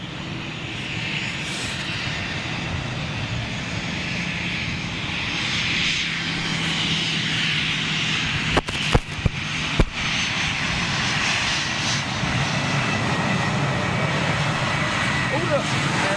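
Jet airliner engines run up on the ground, a sustained loud roar with a whining hiss above it that swells slightly midway, broken by a few sharp clicks, while people talk nearby.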